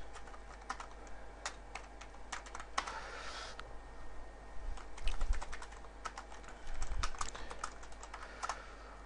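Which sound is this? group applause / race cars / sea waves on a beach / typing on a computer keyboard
typing on a computer keyboard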